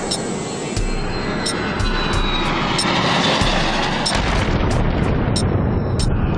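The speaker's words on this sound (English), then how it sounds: "Avianca Flight 1803 goes down in the mountains outside Bogota." Avianca Flight 1803, an airliner downed near Bogota, explodes in a loud, dense blast that swells into a sustained roaring rumble with crackling debris, close and overwhelming throughout.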